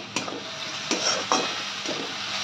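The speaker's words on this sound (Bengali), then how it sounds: "পেঁয়াজটা ভাজতে ভাজতে দিয়ে দিচ্ছি আমি 1/2 চামচ নুন" Onion frying in a pan with a pinch of salt, a steady bright sizzle broken by a few sharp stirring scrapes, close and without speech.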